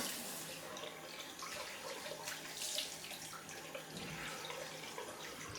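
Cold tap water running steadily into a sink for a post-shave face splash, a continuous close hiss and patter of flowing water with no talk.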